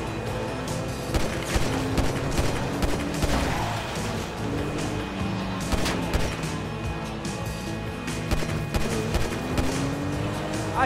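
Gunfire in the video game GTA V erupts as a rapid run of sharp shots layered over a continuous engine drone and game noise, sustained throughout and fairly loud.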